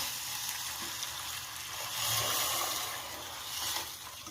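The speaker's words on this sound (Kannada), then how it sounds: "ಇವಾಗ ಇದು ಸರಿಯಾಗಿ ಕುದೀತಾ ಇದೆ" A pot of mango sambar with cowpeas bubbles and simmers, giving a steady close hissing, sizzling boil that swells slightly in loudness partway through.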